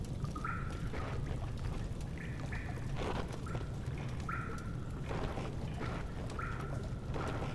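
Water churning and pouring inside the Amnesia game as the level rises, a soft continuous liquid rush with intermittent higher tonal sweeps, faint and distant.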